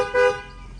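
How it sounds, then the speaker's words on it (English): A truck horn gives a single short honk, a bright tonal blast that swells, holds briefly and fades with a faint hum lingering afterward. "the crazy ones told me to honk and wave when I left."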